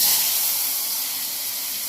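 Tomato hitting hot ghee in a tempering of asafoetida, mustard seeds and cumin gives a loud, steady, hissing sizzle that fades slightly over two seconds, close up with no talking.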